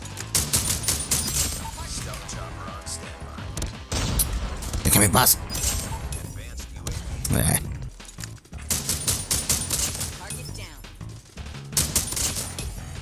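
Gunfire from the mobile shooter COD Mobile, a Type 63 tactical rifle match, with bursts of shots and rapid fire recurring throughout amid game music and effects, while someone talks over much of it.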